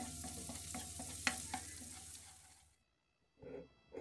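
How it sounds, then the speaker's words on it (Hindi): Garlic paste sizzles in about half a cup of hot oil in a pan, with clicks and scrapes from stirring, until the frying cuts off abruptly into near silence before a brief final clatter. "हाफ टी स्पून से मैं गार्लिक पेस्ट ऐड कर दूँगी थर्टी सेकेंड्स में गार्लिक को सौथे कर लूँगी"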